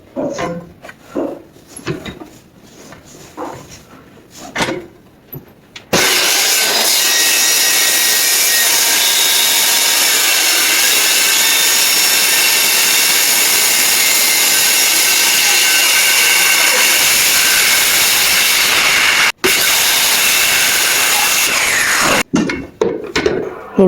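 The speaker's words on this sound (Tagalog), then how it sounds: "that's a wood saw, that's why I said, that's for wood" A power wood saw cuts through wood during rough construction of a half bath, a loud, steady, high whine that runs unbroken for about sixteen seconds after a stretch of quieter knocks and handling.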